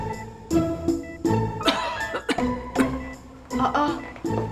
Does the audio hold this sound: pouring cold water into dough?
no